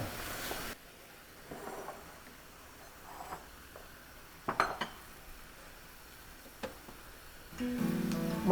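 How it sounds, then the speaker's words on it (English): A utensil stirring food in a pot in a home kitchen, with soft scraping and occasional clinks of metal against cookware, fairly faint with quiet room noise around it. "now I'm gonna have you stir this while I start cooking the sausage."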